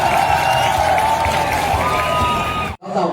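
A crowd at a lantern festival contest in Kalaw cheers and claps loudly over a droning background, with whoops and shouts before the sound cuts off abruptly near the end.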